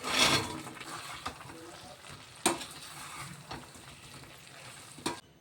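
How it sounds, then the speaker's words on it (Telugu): Chicken 65 pieces fry in a hot sauce with a constant soft sizzle, broken by several sharp scraping knocks of a spoon stirring the pan at uneven intervals. "ఈ చికెన్ ముక్కల్ని ఇందులో వేసేద్దాం."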